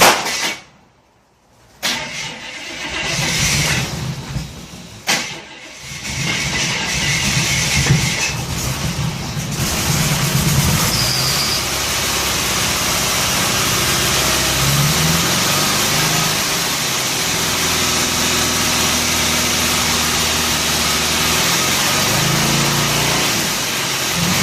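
An engine that won't idle runs steadily with a rough, droning note, rising in revs a couple of times before settling into a sustained loud hum.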